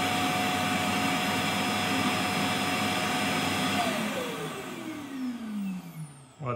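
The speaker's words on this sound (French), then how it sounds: "la poussière qui était dans le robot, il la transfère directement dans le bac à poussière qui est dans la station" An EZVIZ RS20 Pro robot vacuum's docking station runs its loud, steady suction to empty dust from the robot into its bin, then the whine drops in pitch and winds down at the end.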